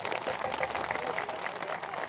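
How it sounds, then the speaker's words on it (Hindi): Applause from the audience at a live Birha music performance, a steady wash of clapping for about two seconds, moderately distant and even in level. "जोरदार ताली बजा दें।"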